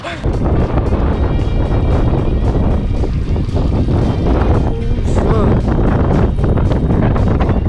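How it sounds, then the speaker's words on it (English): Strong wind buffets the microphone on a fishing boat out on Flaming Gorge, a loud steady roar with gusting rumble throughout, while voices talk excitedly over it. "Wind is kicking too."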